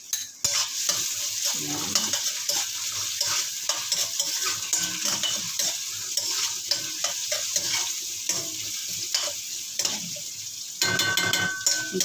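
Garlic, onion and ginger sauté in a pan for a shrimp and squash coconut-milk dish, a steady close sizzle with frequent stirring scrapes throughout, and a brief word spoken over it.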